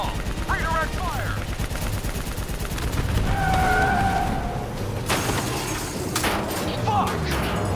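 Gunfire rings out in a Call of Duty: Black Ops 3 campaign battle, bursts of shots and impacts mixed with vehicle noise and shouted voices, loud and busy throughout.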